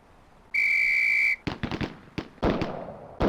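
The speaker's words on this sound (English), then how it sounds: "On the whistle." A single sharp police whistle blast sounds for under a second in Police Quest: SWAT, loud and steady, followed by a quick series of sharp gunshot cracks and thuds.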